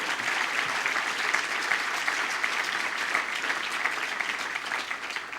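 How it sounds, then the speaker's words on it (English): A banquet audience at an Easter Seals advocacy awards event applauds for the Rupert Foundation with dense, steady clapping from many hands that holds evenly throughout. "how about a round of applause for the Rupert Foundation?"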